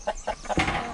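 Young cockerels and small chickens kept together in a pen cluck close by in a quick run of about four short, evenly spaced calls, then a broader rasping squawk.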